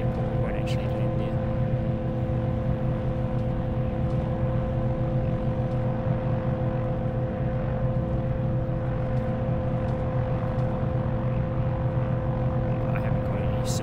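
Aircraft engine drone inside a flight simulator game, flying over a cargo airport, a steady tonal hum held at even loudness throughout with no pauses.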